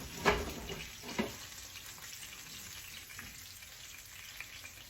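Ravioli frying in hot oil, a constant close crackling sizzle with two sharper pops near the start, then an even hiss that carries on alone without speech.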